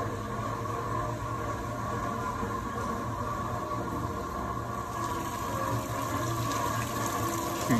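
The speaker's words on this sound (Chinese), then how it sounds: "这边有一个喷水雕像" Steady splashing and gushing water from a fountain statue at an outdoor garden pond in a Minnesota park, a continuous even wash of sound with no speech.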